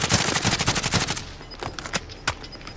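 Rapid gunfire bursts in a battle royale video game, a fast rattling string of shots followed by a few separate louder single cracks, close and punchy with no speech.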